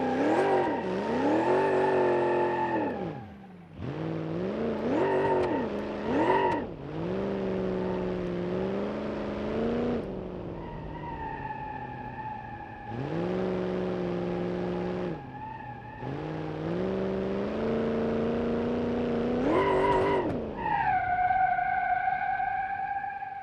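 Car driving in the BeamNG.drive game, a blown Cornet project car, its engine revving up and down in loud repeated surges with tire squeals and skids between shifts, close and continuous with no talk.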